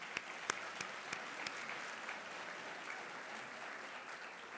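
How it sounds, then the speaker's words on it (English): Conference audience at a sustainability summit lunch plenary applauds, a steady, fairly faint wash of clapping from a large room with a few sharper individual claps standing out near the start. "Let's give them a round of applause."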